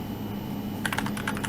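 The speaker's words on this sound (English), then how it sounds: "You're going to type in chmod" Keys clatter in a quick burst of typing on a computer keyboard as a Linux chmod command is entered, starting partway through after a steady low room hum; no one speaks.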